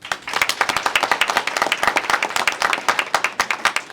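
A community-centre election forum audience claps together in a brisk, rhythmic burst of applause that stays loud throughout before tapering slightly at the close.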